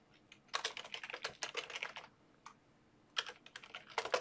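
Quick, quiet bursts of typing on a computer keyboard as a folder name is entered, with a clattering run of keystrokes, a short pause, then a few more taps.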